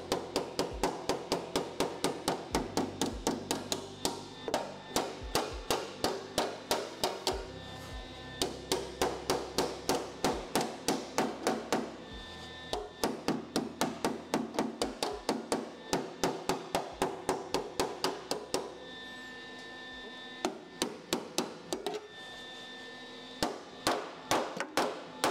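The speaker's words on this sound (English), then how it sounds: "So now I'm just going to grab the hammer and try to push that right in its place" A hammer pounds a welded metal part into position during cutting and welding work, delivering dense runs of sharp, loud metallic blows in rapid bursts separated by brief pauses.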